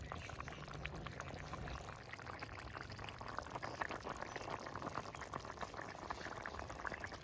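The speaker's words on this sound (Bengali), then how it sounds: "আর 2 মিনিট ফুটলেই আমার ঝোলটা রেডি।" A pot of bata fish curry (jhol) bubbling at a steady boil, a dense, even stream of small pops and gurgles up close with no talking.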